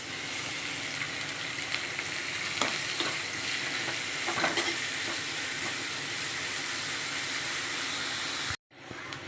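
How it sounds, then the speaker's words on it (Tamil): Pirandai (adamant creeper) sautéing in oil gives a steady, dense sizzle with a few soft stirring scrapes, then cuts off abruptly near the end. "இந்த பிரண்டையை வந்து இதில் போட்டு வணக்கிக்கலாம்"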